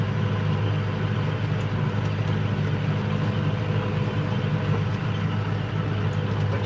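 An old air-conditioned tractor mowing second-cut hay, its engine a steady, continuous low rumble and drone heard from inside the cab, unchanging throughout.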